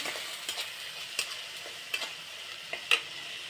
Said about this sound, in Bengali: আমি একটু কাঁচা লঙ্কার কুচি দিচ্ছি